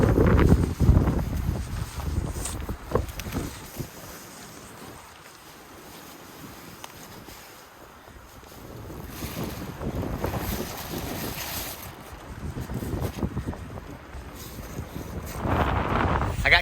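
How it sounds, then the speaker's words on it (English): Gusty wind sweeps across a ridge-top campsite, rising loud at the start, easing to a low hush in the middle, then building again into strong buffeting gusts with no one speaking. "It's getting windy. I'm up here on top of the ridge."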